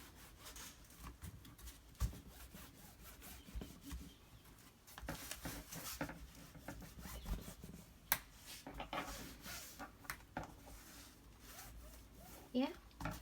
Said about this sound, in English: Now I'm going to use the bone folder and use this.